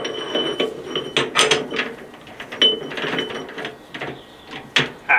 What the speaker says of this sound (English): which I'm just going to machine out of a piece of steel